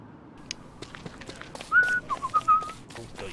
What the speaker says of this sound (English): Sorry, yes, whistles, bad whistling.